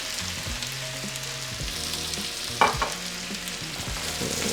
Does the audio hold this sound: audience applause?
no